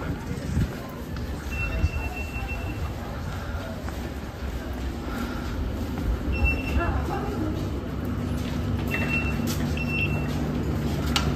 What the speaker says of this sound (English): Train's there.